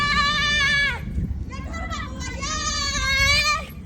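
Goats bleat twice in long, wavering, nasal cries, the first near the start and the second after a short pause, with rough background noise and murmuring voices underneath.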